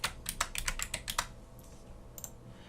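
Rapid clattering keystrokes on a computer keyboard, a quick burst of close, crisp taps for about a second, then a pause and a couple of softer, isolated clicks.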